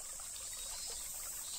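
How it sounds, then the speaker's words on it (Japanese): A small stream trickles steadily behind a grandfather's house near a mountain path, a soft continuous babble of running water with no voices, heard alone and fairly faint. "祖父の家の裏には小さな川が流れていて、"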